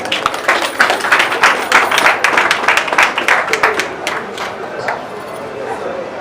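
An audience at a formal gathering in Kinshasa applauds after a vice-governor is introduced, with dense, steady clapping that stays loud, then slowly thins and fades toward the end.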